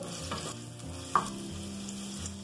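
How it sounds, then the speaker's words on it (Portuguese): Garlic sautés in melted lard in a pan, a soft steady sizzle close by, with a brief clink of a utensil stirring partway through. "Vou refogar aqui um pouco de alho."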